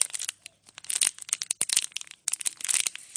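Close, crinkly squishing and crackling comes in repeated bursts as a biscuit-shaped squishy toy is squeezed, with brief quiet gaps between presses.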